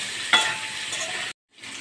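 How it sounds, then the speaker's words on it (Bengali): Potatoes fry in oil in a pan with a steady close sizzle and a brief utensil clink, cut off by a moment of silence before the hiss resumes. "আলুটা ভাজা হয়ে গেছে,"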